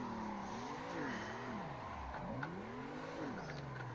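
Car drifting in Assetto Corsa, engine pitch swooping up and down in repeated sweeps as revs rise and fall, with a continuous hiss of tire squeal and brief sharper chirps, steady and close with no talk.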